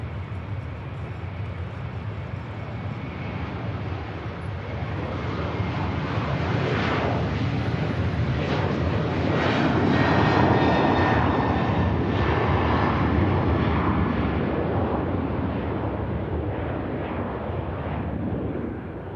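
A Ryanair jet rolls and takes off at Manchester Airport, its engine roar building to a broad, loud rumble that peaks midway and then eases, heard from a distance with wind noise.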